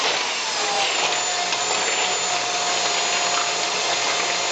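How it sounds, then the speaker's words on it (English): An electric drill runs steadily, driving the belt of a homemade brass tumbler for ammunition reloading, giving a loud, even whine with no breaks and no talking. "When you turn the drill like this,"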